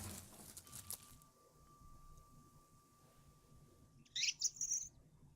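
A bird chirping in The Book of Unwritten Tales 2 adventure game, a brief cluster of bright high chirps near the end over a quiet ambient game backdrop.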